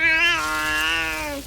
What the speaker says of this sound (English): Whoa. Feral cat.